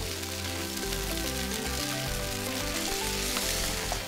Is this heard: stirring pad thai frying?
yes